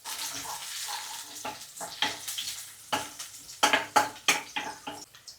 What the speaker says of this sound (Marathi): तेल गरम झाल्यावरती बघा लसूण टाकलेलं आहे.